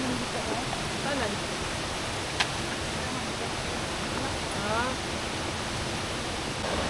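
Tagkariring Falls in Puerto Princesa, Palawan, a steady rushing roar of falling water close by, with faint voices and bird-like chirps under the constant wash.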